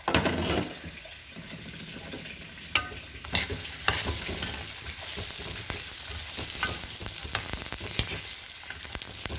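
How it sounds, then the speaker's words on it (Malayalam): Chillies sautéing in coconut oil in a pan for a Kerala Onam mulaku pachadi, a steady close sizzle and crackle with occasional sharp stirring clicks throughout. "ഇതിലേക്ക് നമുക്ക് കുറച്ച് വെളിച്ചെണ്ണ ഒഴിച്ച് കൊടുക്കുക. എന്നിട്ട് നമ്മുടെ മുളകിനെ ഒന്ന് ജസ്റ്റ് ഒന്ന് വഴറ്റിയെടുക്കണം."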